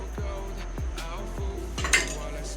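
A spoon stirs gram flour batter with spices in a metal bowl for ridge gourd fritters, making four regular scraping clinks close up, with a brief sharper clink near the end.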